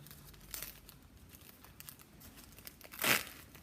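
The plastic wrapper of a Longrich sanitary pad is torn open up close. Faint crinkling runs throughout, with a short rustle early on and one sharp, louder tearing crinkle near the end.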